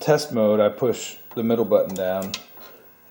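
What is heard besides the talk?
None of the usual background noises is heard.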